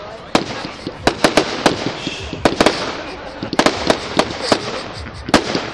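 A public fireworks display at Stoke Park in 2012, with a rapid series of sharp bangs and crackling bursts at uneven intervals, some clustered close together, heard from moderate distance.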